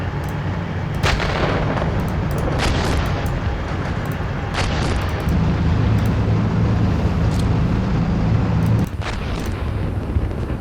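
Tank cannon fire in the Steel Beasts combat game, several sharp booming shots over a constant heavy engine rumble, one big blast near the end; no talking.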